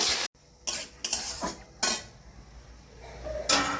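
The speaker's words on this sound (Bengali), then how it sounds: "লবণ দিয়ে একটু ভালো করে নাড়াচাড়া করে" Sliced bottle gourd is stirred with salt in a pot, producing several close, sharp bursts of spoon scraping and clanking against the metal, separated by quiet gaps.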